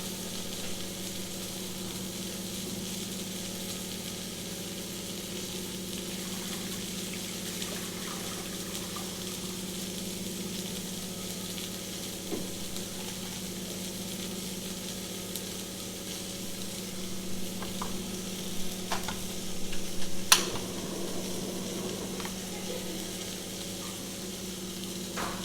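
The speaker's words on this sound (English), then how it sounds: "While the meat is searing" Meat sears in a hot pan with a steady, even sizzle that holds throughout, joined by a brief clink and clatter of cookware near the end; no one speaks.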